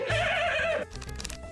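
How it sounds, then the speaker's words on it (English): A horse whinnies loudly and close, a strained, wavering neigh lasting most of a second, followed by a few rapid snorting, fluttering breaths. "Horse!"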